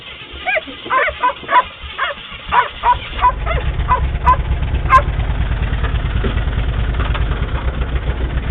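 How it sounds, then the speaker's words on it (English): A 1952 Pontiac engine idles roughly after a failure, with a low, steady pulsing rumble that starts about a third of the way in. Loud barking, animal-like calls come before it and fade as the idle continues. "Can you guys hear the engine? Sounds like it's dead."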